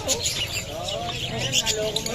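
Small bird chirps and tweets come in bursts amid steady background chatter and room noise.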